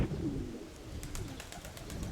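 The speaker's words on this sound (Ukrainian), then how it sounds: "Це шоста голубка" A female pigeon coos softly in a loft where young pigeons are being trained, giving a few low, murmuring calls at close range.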